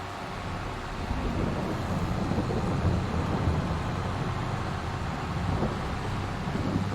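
Steady rain pours across a farm field in a tractor farming game, a constant broadband hiss with low rumble underneath, moderately loud and unbroken throughout with no voices.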